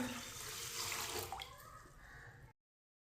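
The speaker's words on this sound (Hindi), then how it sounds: "अब इसमें पानी डाल लेंगे।" Water poured from a glass tumbler into a pan of split black lentils with husks for mash dal, a steady close splashing pour lasting about two seconds before cutting off.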